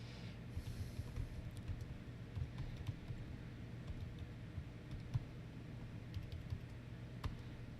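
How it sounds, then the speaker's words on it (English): Steady keyboard typing, quiet and continuous, with irregular key clicks and a soft low hum underneath. "while I'm kind of typing and looking here"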